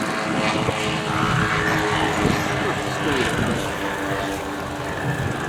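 A large-scale radio-controlled propeller model plane with a very high aspect ratio wing flies slowly overhead, its engine droning steadily at moderate distance beneath continuous talking.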